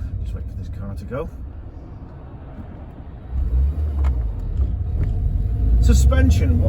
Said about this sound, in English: Just wait for this car to go.